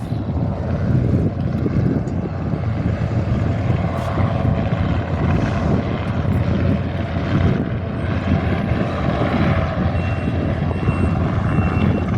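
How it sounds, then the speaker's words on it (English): A Cessna C-182 light propeller plane doing a touch and go on a windy day, its engine droning steadily and loudly throughout, with no talking. "Cessna C-182, just about to do a touch and go."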